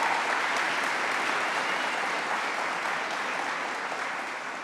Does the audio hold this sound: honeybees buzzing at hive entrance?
no